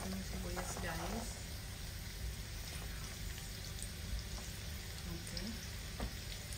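Onions sautéing in a pan for a vegetable dish of batong and sayote, a soft continuous sizzle and crackle with occasional stirring scrapes, fairly quiet and steady throughout.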